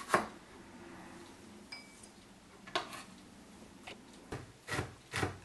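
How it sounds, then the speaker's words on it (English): A knife finely slices quartered, deseeded cucumber on a board, giving scattered soft taps and clicks at an irregular pace, fairly quiet and close. "Here we have a cucumber which has been cut into quarters. The seeds have been removed and my mum's finely slicing them."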